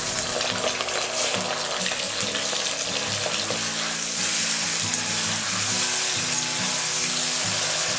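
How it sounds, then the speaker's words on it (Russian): Pork ribs fry in hot vegetable oil in a kazan, giving a loud, continuous sizzle and crackle close by, steady throughout with faint bubbling underneath. "Теперь я отправляю обжариваться ребрышки в казан."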